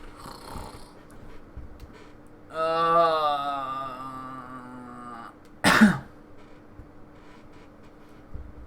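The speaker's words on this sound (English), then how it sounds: "Cough." A single sharp cough cuts in near the middle, close and loud, after a stretch of raspy, snoring-like throat noise against quiet background hum.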